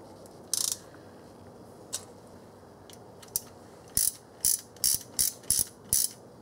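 Ratchet turning the lower intake manifold bolts on a 1995 Oldsmobile 88 with the 3.8 L 3800 V6: a few scattered clicks, then a rapid run of six sharp, close ratcheting bursts in steady rhythm, with no talk.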